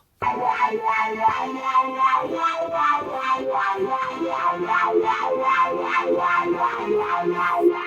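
Yamaha PSR keyboard voice played through the auto wah modulation effect: a dense, sustained chordal tone with rhythmic, sweeping filter pulses repeating several times a second, loud and steady with no talk.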